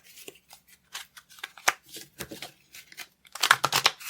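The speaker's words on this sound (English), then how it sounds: "Oh, that was a terrible shuffle." Soft, quick riffling and slapping of tarot cards being shuffled close by, in uneven bursts that grow busier toward the end.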